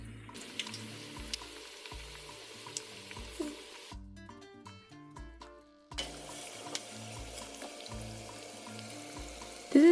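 Sopapilla dough frying in hot oil, five pieces at a time, gives a steady bubbling sizzle under background music; it drops out briefly midway, then returns.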